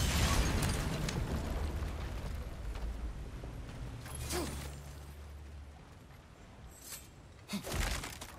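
A small bomb explodes in God of War Ragnarok, giving a burst followed by rumbling debris and creaking mechanisms, with later sharp pops, all without speech.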